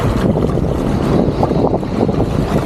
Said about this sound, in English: can you hear all that debris coming up? There's salt all over the sidewalk here, and it's just tossing everything like that